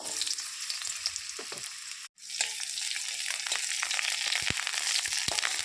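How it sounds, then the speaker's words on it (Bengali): Onions dropped into hot oil on a gas stove, a loud crackling fry that cuts out briefly, then resumes as a steady sizzle with clicks and stirring knocks, close up. "তেল গরম হয়ে গেছে পেঁয়াজ দিয়ে দেবো"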